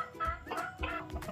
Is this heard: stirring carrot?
no